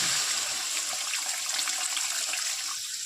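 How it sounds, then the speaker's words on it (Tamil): Dissolved tamarind water poured into a pepper curry, a steady close splashing liquid stream lasting the whole few seconds, with no talk. "கரைச்சி வச்சுக்கிற புளி தண்ணியை எடுத்து"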